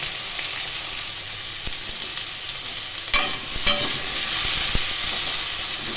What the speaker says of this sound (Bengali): কচু, আলু এবং পটল খুব ভালো করে ভেজে দিচ্ছি